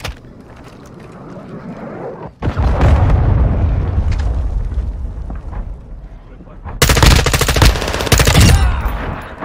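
A cruise missile strike and gunfire in Modern Warfare 2: a deep rumbling blast and roar, followed later by loud bursts of rapid automatic fire, with players speaking at points.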